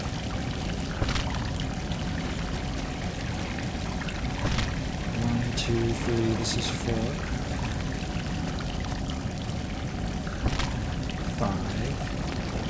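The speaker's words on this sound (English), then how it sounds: "Follow the running water." Continuous rushing water in Salt and Sanctuary, a steady pouring stream running the whole time beneath a man counting aloud, with a few brief chimes and clicks from the game over it.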